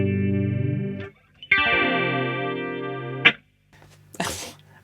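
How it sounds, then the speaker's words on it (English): Electric guitar run through the chorus effect of a TC Electronic Nova System processor, giving a shimmering, warbling tone; sustained chords ring out, break off, then return, ending on a short noisy strum. "it sounds like an old Boss chorus pedal."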